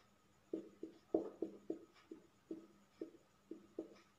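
Chalk or pen tapping and scratching out a chemistry equation during a lecture, a string of short, sharp strokes in an uneven rhythm, close and fairly faint, with no talking.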